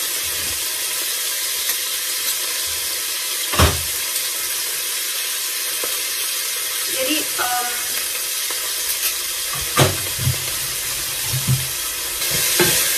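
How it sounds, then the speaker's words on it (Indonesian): Onion paste and beef stir-fry in a pan, with a steady broadband sizzle throughout and a few sharp clinks of a utensil scraping and stirring near the mic; no talking. "bawangnya dihalusin, terus kita kasih masuk, ditumis dengan daging sapinya"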